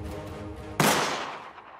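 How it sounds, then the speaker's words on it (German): Three sharp, loud gunshots cut through a busy music bed, each reverberant tail fading over the next second. "Es fallen 3 Schüsse."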